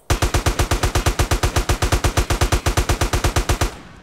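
Rapid automatic gunfire from a weapon in GTA San Andreas: a steady burst of roughly thirty evenly spaced shots, loud and close, with no talking, ending abruptly.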